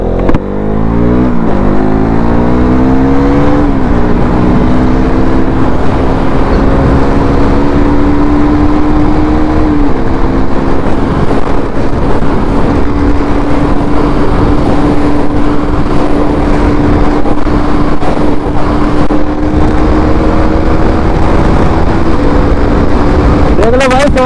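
A KTM Duke 200 motorcycle races an Ola S1 Pro electric scooter, the petrol engine droning loud and steady with a rising then holding pitch, amid constant wind rush and some voices.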